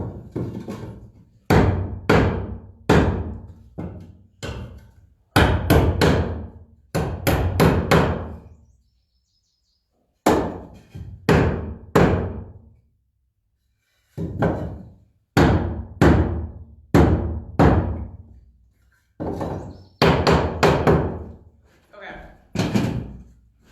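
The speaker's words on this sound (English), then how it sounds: "It's really hard to hammer on a bouncy surface, so I might just take this to the floor" Loud, close hammer blows on the floor in quick bursts of several strikes, with short pauses between groups; no voices.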